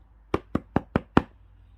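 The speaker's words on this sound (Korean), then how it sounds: "문을 두드려 보았어요" Knuckles rap on a wooden door, five evenly spaced knocks, close and clear against a quiet background.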